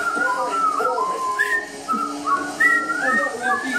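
Someone whistles a wandering tune, each note clear and fairly close, with short pauses between phrases.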